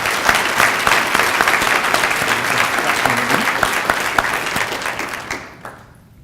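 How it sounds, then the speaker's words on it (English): Audience at a chamber of commerce annual meeting breaking into loud, dense applause that holds steady for several seconds before trailing off and fading out. "And a round of applause"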